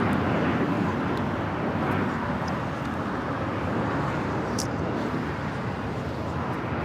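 An Embraer Legacy 500 business jet at Los Angeles LAX, a continuous moderate engine rumble and rush steady throughout, with faint traffic-like noise and no clear voices.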